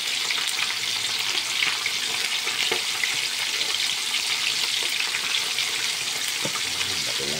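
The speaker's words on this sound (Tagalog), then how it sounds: "Piprito natin yan." A whole chicken fries in hot oil in a home kitchen, giving a loud, steady sizzle and crackle that runs without a break and is heard alone.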